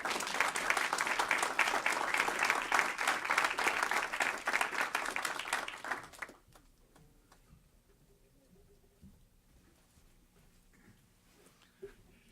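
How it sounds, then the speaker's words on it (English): A crowd applauds at a city council meeting, dense steady clapping for about six seconds that then stops abruptly, leaving a quiet room with faint movement. "Let's give these guys a round of applause."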